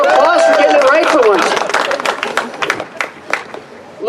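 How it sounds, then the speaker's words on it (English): Audience applause and cheering for a speaker at a political event, loud and dense at first, then thinning into scattered claps and crowd chatter. "let's give China a round of applause for getting it right"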